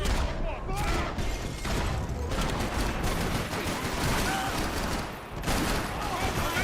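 Continuous firefight in the video game Max Payne 3, with rapid overlapping gunshots and automatic bursts filling the whole stretch, loud and near, under shouting game voices.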